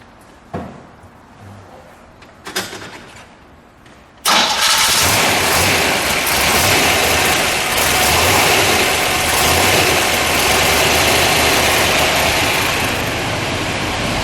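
A red 1965 Chevrolet Corvette coupe with a 327 V8 cranks and fires loudly after a few quiet clicks and shuffles, then settles into a steady, rumbling idle that carries on close up to the end.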